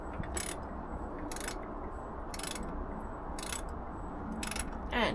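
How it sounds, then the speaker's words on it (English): A ratchet spanner clicks in short, evenly spaced bursts while undoing bolts on a Rover P6 four-cylinder engine side plate, close and moderately quiet, with no talking. "thank God for ratchet spanners"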